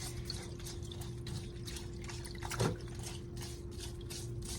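A scrubbing brush worked over a surgical suction tip held underwater in a sink during instrument cleaning, giving soft muffled repeated swishes and light water movement under a steady low hum, with one slightly louder stroke.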